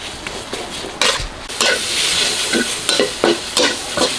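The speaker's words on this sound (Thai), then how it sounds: "เราไม่ต้องใส่น้ำมัน คั่วให้หอม พอหอมปุ๊บก็เนื้อสุกเลยนี่แบบนี้เนี่ย" Beef stir-frying in its own fat in a pan with no oil added, cooked for a spicy Thai herb dish; continuous close sizzling with repeated scraping stirs and metal utensil clinks against the pan.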